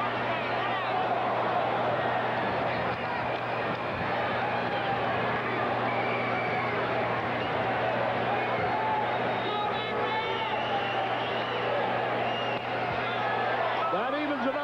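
Crowd of Cubs fans at a 1984 Cubs versus Pirates baseball game in Pittsburgh, a steady, dense roar and babble of voices filling the stadium throughout, with no single clear event standing out.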